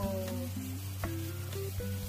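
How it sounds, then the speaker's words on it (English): A steady sizzle of tomato frying in a pan with onion for a goat liver dish runs throughout, with a faint tonal hum in the background. "I am frying tomato."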